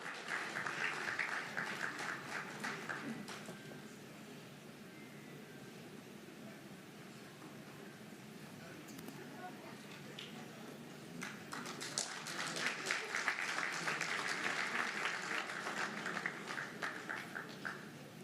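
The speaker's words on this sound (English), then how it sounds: "A big round of applause to Professor Magoshongwe Twambere Mawoko" An audience at a government performance contracts signing ceremony in Zimbabwe claps for an honoured official, the applause fairly faint and distant, thinning in the middle before swelling again.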